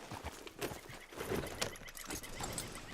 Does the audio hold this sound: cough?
no